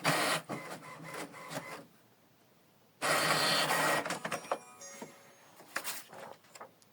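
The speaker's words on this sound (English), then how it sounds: "So the data is sent to the printer." An HP ENVY 6032e inkjet printer runs a document job, with two loud bursts of mechanical whirring and paper feed separated by a short quiet pause, followed by clicks and fainter motor sounds.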